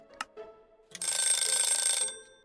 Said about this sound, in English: Okay, that is the 10-minute timer, everybody.